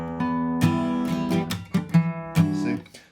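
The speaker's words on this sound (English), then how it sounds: "try to keep strumming if you can and sort of get that muted sound" Acoustic guitar strumming on a song with muted down-up strokes between chord changes, a few ringing chords broken by dull percussive scratches, close and uneven.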